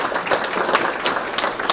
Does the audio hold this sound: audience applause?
yes